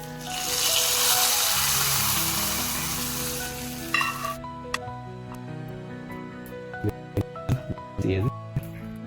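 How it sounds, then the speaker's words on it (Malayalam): Hot mustard-seed tempering with curry leaves poured into Kerala-style beef mappas curry: a loud, steady sizzle for about four seconds that cuts off abruptly, followed by a few quiet clinks and spoon taps with faint voices nearby. "നമ്മൾ കടുക് താളിച്ച് നമുക്ക് കറിയിലേക്ക് ഒഴിച്ച് കൊടുക്കാം."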